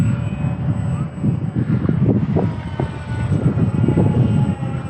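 An ESKY Sparrow beginner RC biplane with two brushed motors flies outdoors, giving a soft, steady motor buzz with a gently swelling drone and some wind noise throughout.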